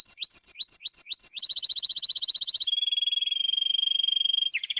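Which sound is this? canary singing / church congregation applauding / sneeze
canary singing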